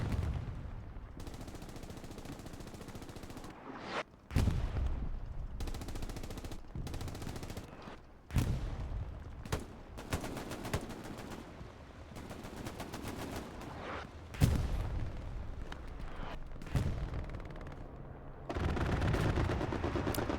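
Bursts of automatic gunfire and heavy firing from an aircraft strafing run in the Stalingrad battle of Hell Let Loose, loud and rumbling in several separate volleys with short gaps between them, no talking.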